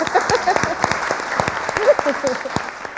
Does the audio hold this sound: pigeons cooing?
no